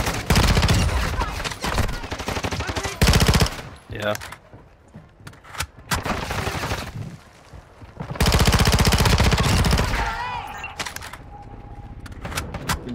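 Video game gunfire arrives in dense rapid bursts, several loud volleys separated by quieter gaps, mixed with players chatting over voice comms.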